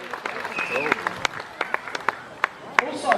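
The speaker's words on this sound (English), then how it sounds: "Let's give him a round of applause." An audience at a tiger show at Dreamworld claps in scattered, moderate applause, while a presenter's voice talks over it through the whole stretch.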